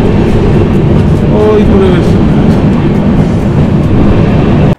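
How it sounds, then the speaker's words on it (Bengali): A Duronto Express passenger train running from Howrah to Mumbai heard from inside as a loud, steady rumble and rattle of the carriage, with a brief voice speaking partway through before the noise cuts off. "ট্রেন যাচ্ছে"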